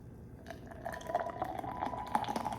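Nitro Pepsi poured hard from a can into a glass, a quiet fizzing, dripping pour with small splashes and bubbling that grow slightly busier as it fills, close by with no talk.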